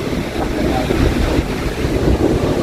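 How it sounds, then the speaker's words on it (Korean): Strong waves surging against the Mipo coast at Haeundae, Busan, near a breakwater, heard as a continuous loud, rumbling wash with steady wind buffeting the microphone throughout. "오늘도 파도가 세네요."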